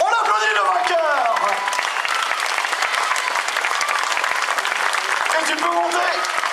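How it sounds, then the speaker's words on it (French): A crowd at the Rallye d'Orthez podium applauds the rally winner, brisk continuous clapping throughout, with a voice talking over the start and again near the end. "Allez, on applaudit le vainqueur."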